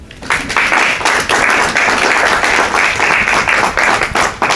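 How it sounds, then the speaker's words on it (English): Sustained applause from a symposium audience, dense steady clapping throughout, loud and close, with no talking over it. "give yourselves a resounding round of applause"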